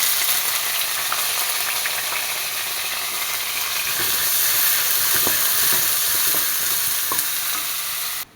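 Sliced onions fry for biryani in oil and ghee with cinnamon, cloves, cardamom and fennel seeds, giving a loud, steady, close sizzle with occasional stirring scrapes throughout.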